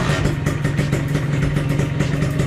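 A Vespa automatic scooter engine runs after a single kick start, giving a loud, close, steady putter with rhythmic mechanical clatter and no voices over it.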